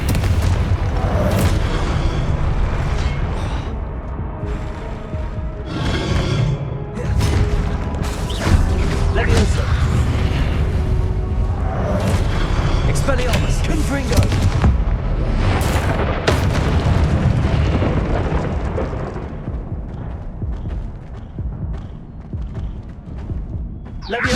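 Confringo fire-spell blasts in the Hogwarts Legacy video game, heavy booming explosions rolling over one another in a loud, continuous barrage, with a voice calling out over the bursts.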